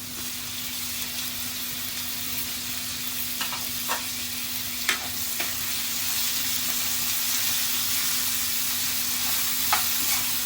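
Onion, green chillies and tomatoes are stir-fried in a pan for a Ganesh Chaturthi festival offering platter, giving a continuous even sizzle with a faint steady hum and a few scattered clinks of the spoon.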